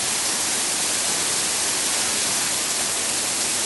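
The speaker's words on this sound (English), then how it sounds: "And there's the waterfall at the right hand side." Steady broadband rush of a waterfall beside a walking path on the North York Moors, a constant dense wash of falling water that fills the whole clip evenly, fairly close, with no voices over it.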